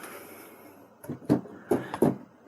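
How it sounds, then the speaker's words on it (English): A camera bumped during a headphone jack repair on a Medeli SP4200 digital piano, giving several soft knocks and thuds in quick succession against a quiet room background. "just knocked the camera there."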